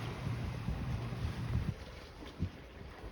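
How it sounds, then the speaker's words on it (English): A sailboat moving under headsail alone in about six knots of breeze near Marsh Harbour, with a steady rush of wind across the microphone and soft water sloshing along the hull, plus an occasional low thump. "We are sailing with our headsail only."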